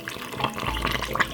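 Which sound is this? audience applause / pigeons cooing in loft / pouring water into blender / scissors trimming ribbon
pouring water into blender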